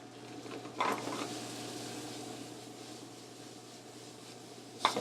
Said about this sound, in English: Saute those up really quickly.